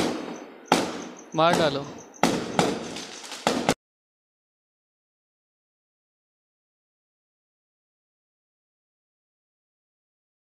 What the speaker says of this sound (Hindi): ये पटाखे मेरे घर के पास फोड़ रहे हैं, बहुत तेज साउंड आ रहा है।